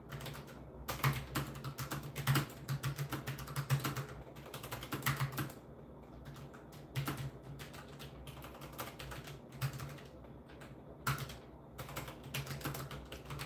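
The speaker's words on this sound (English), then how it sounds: "Don't judge me by my typing skills." Typing on a computer keyboard in uneven bursts of rapid clicks with short pauses between, moderately close and alone without voices.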